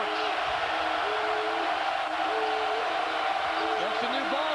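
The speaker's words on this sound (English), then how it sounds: "you can hear the crowd coming in" Crowd noise swells in the arena at an ASU college basketball game during a home run, a steady roar of fans with a commentator talking over it.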